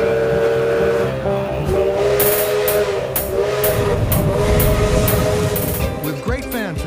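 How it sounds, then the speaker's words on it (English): A century-old steam locomotive chugging at a station platform in Ecuador, with rhythmic bursts of steam and hiss, loud and nearby, with a whistle-like tone running underneath. "a century-old steam locomotive pulled up to the platform."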